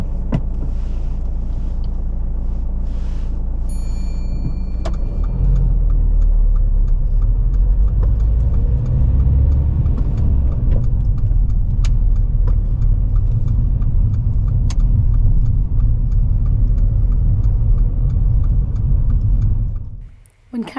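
A car pulls away during a UK practical driving test, its engine rumble rising and holding steady inside the cabin for a long stretch before cutting out near the end, with some speech.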